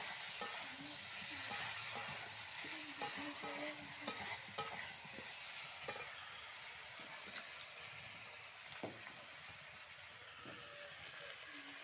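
A spatula scrapes and knocks through potatoes and cauliflower with tomato and green chili as they sizzle in a pan, giving irregular stirring clatters over a steady frying hiss, with no talk.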